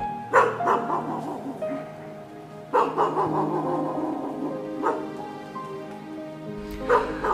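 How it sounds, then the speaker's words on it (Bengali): A female street dog barks at night in a few spaced, echoing bursts, moderately distant, over a quiet background with a faint patter. "মাঝরাতে রাস্তার লেডি কুত্তার চিৎকারে হঠাৎ ঘুম ভেঙে এল"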